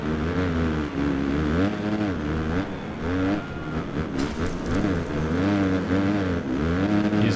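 A motocross bike engine in the MXGP PRO racing game at the Qatar track, revving high and buzzy, rising and falling repeatedly as the throttle is feathered through corners, loud and close throughout.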